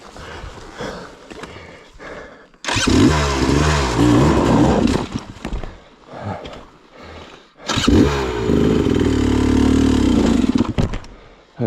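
A 2024 Beta XTrainer dirt bike engine roars in loud, close surges with sharp throttle blips and brief dips between, the revs rising and falling unevenly as the clutch is worked.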